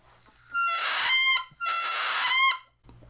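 A bagpipe chanter reed, loosened after soaking up moisture, crows loudly in two sustained bursts, each a bright buzzy honking tone lasting under a second, with a short gap between them.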